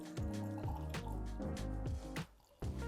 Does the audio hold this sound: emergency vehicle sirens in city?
no